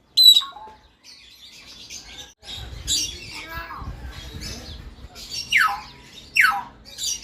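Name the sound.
zoo bird calling in many different voices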